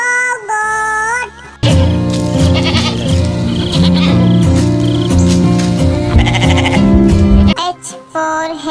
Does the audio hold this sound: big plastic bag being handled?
no